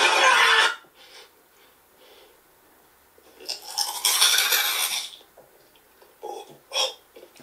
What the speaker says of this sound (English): Chips be so loud, bro.